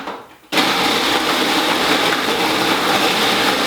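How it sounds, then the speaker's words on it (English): A food processor whirs loudly and steadily, blending cheesecake base into breadcrumb-like crumbs; it starts abruptly after a brief quiet moment and runs continuously without pause. "Blend them up until they're like a breadcrumb consistency."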